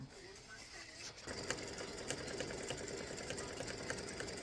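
A sewing machine stitches a waffle cone design for a patriotic ice cream tic tac toe game piece. After a quiet second it runs as a steady, rapid, close mechanical whir to the end.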